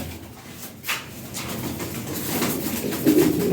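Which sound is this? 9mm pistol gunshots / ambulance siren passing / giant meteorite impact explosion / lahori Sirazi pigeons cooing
lahori Sirazi pigeons cooing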